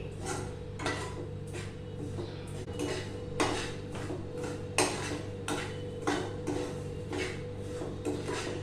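Semolina with crushed ginger being dry-roasted for upma, a spoon knocking and scraping against the metal pan in regular strokes, close but fairly quiet, with no voices.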